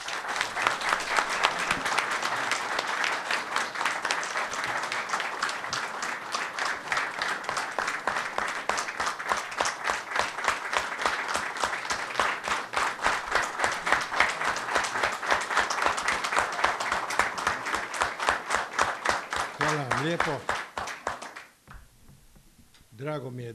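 Sustained audience applause at a political speaking event, with loud, dense rhythmic clapping from a crowd for about twenty seconds before it drops away and a speaker begins.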